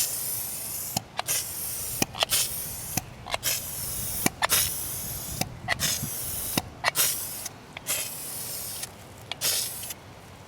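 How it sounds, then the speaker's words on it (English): Hammered paint sprays from a can onto a utility trailer in short repeated bursts of hissing spray, each a second or so long with brief pauses and clicks between, close and fairly loud. "let's take a look at how this hammered paint goes on"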